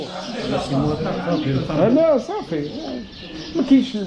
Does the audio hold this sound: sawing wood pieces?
no